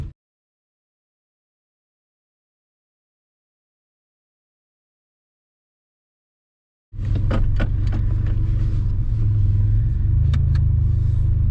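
A supercharged Pontiac 6000 cruises along a road after several seconds of silence, its engine a steady low rumble with road and wind noise, heard from inside the car at a constant level.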